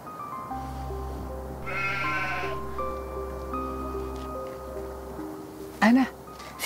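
A sheep bleats once, loud and close near the end, after a stretch of sustained musical tones and a low drone.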